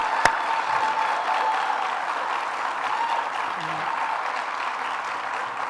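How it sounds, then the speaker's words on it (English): Sustained, steady applause from an audience honoring Deborah Hughes at New York Governor Kathy Hochul's Finger Lakes investment announcement, with the dense clapping holding at an even level throughout. "let's give Deborah Hughes another round of applause for all your work"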